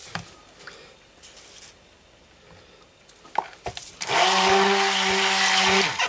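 A blender whirs loudly and steadily through the last two seconds, mixing soap batter for a breakfast-themed soap, with its motor pitch holding level. Before it starts there are a few clicks and handling knocks.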